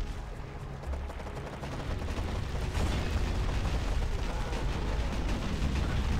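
A mounted gun fires continuously in the video game Tak, a dense rumbling barrage of rapid shots and booms that swells after the first couple of seconds and stays loud throughout.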